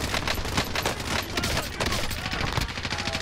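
Dense gunfire in Call of Duty Modern Warfare, continuous rapid automatic shots and overlapping bursts forming a loud, unbroken barrage with a heavy low-end rumble.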